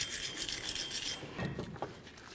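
A rag or brush rubs and scrapes briskly over the metal mating surfaces of a brake rotor and wheel hub on a 1998-2011 Ford Ranger, with quiet, close, irregular strokes.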